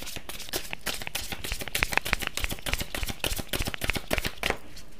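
Tarot cards are shuffled by hand in quick, crisp riffles and soft papery flicks, close and fairly quiet, with no talking.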